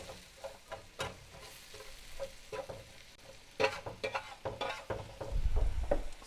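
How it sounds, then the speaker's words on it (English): Onions slowly frying in a pan for a steak paella, a soft sizzle with scattered stirring scrapes and clatters, the hiss swelling louder near the end. "Onions take a little bit longer to cook, so we'll always get those going first"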